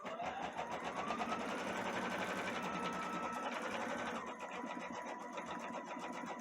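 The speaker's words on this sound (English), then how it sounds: "Looks like it's starting to embroider." Brother Stellaire embroidery machine stitching an Easter egg design, a fast continuous needle rattle with whirring motor tones that shift in pitch as it runs, close and steady, with no speech over it.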